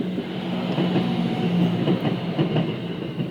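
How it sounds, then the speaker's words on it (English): Near a railway line, a train rolls past at close range with a steady loud rumble and faint clickety-clack from the wheels. No voices are heard. "here's the train just now"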